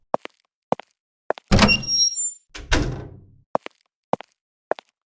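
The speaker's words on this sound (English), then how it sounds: "I will go open the door." A door is handled indoors in a home: a few light clicks of the handle, then two loud thumping swings as it opens, followed by more sharp clicks, all alone with no talking.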